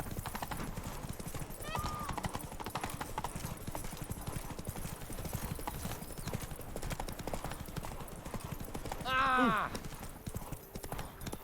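Hooves of the horse Roach clip-clop in a rapid steady gallop in The Witcher 3, continuous and fairly close, with a short whinny near the end and voices talking over it.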